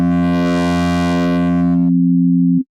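Pro Tools PlayCell synth plays a steady low sine tone with grit added, giving a buzzy, harmonically rich distortion that drops away before the pure note ends abruptly, loud and alone.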